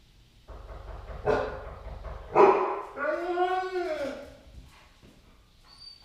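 A dog barks at a knock on the door a few times nearby, with sharp yips rising into a longer whining bark, moderately loud against a quiet room.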